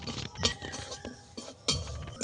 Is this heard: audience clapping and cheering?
no